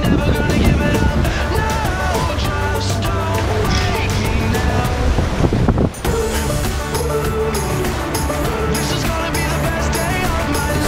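Ocean waves rush around a sailboat surfing downwind in an offshore yacht race across the Pacific, a loud continuous roar of wind and water with constant buffeting and splashing throughout.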